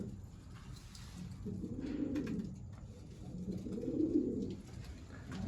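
Pet pigeon cooing close by, two soft, low, rolling coos in a row over light background noise.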